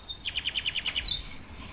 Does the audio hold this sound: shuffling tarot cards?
no